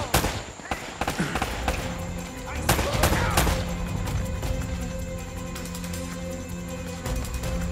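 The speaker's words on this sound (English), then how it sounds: "They're shooting at you, too, you know." Gunfire in the Uncharted video game: a dense, ongoing exchange of shots, with sharp cracks and a few louder reports early on over steady game noise and music.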